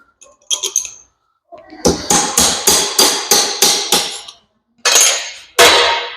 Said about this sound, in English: Hammer that back.